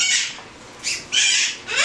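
Pet bird held in a gloved hand, squawking in loud harsh bursts: one, then a short gap, then two or three more in quick succession, close and with no talk.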